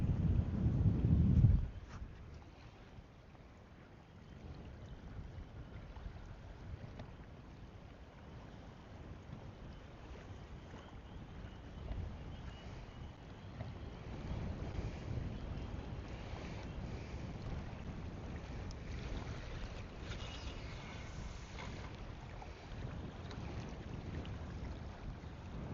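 Wind blows steadily over open water on Lake Monduran during a barramundi fishing competition, heard from a boat as a continuous broadband rush with microphone buffeting, after a loud thump at the start.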